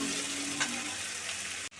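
Chopped onions with a spoonful of salt fry in hot oil for a pomfret fish curry, giving a soft, steady sizzling hiss that runs evenly until a brief cut at the end.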